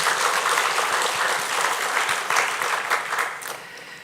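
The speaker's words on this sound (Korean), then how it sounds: "우리 박수로 한번 격려하겠습니다." A church congregation at Sunday service applauds warmly, a full, sustained round of clapping from many people that holds steady and then tapers slightly at the end, with no talk over it.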